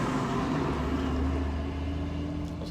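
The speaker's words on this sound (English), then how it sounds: "That was a loud truck." Loud low engine rumble of a truck passing by on a road, steady and close throughout with no talk.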